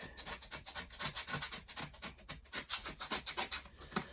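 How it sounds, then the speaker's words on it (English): Rhythmic rasping strokes of a scraper dragged across an old cardboard palette crusted with oil paint, a steady back-and-forth scratching repeated many times, fairly close and moderately quiet with no voices. "Okay, scrape."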